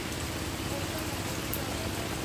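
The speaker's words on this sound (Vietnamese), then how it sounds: "Mưa rồi" Steady rain falls outdoors in a continuous, even hiss, fairly loud and close, with no voices over it.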